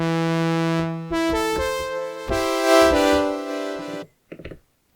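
Korg Wavestate synthesizer patch with delay added, sustained bright chords shifting pitch, then a few quieter echoing repeats trailing off after the notes stop, close and clear with no talking.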